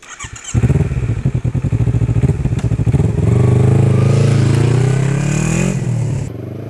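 A custom Kawasaki Z250 motorcycle engine, close and loud, starts with rapid throbbing pulses, then revs up into a sustained rising roar and eases off.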